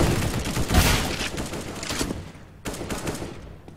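Gunfire in the CS:GO video game comes as a rapid burst of shots and then scattered single cracks, loud and close with short gaps between volleys.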